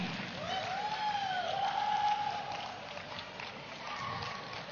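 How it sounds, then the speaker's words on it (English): An audience applauds choreographer Anji Master of Indian Step Up Dance Academy at a stage event. The clapping is a fairly faint, steady patter, with a rising whistle-like tone over it early on. "A big round of applause for Anji Master"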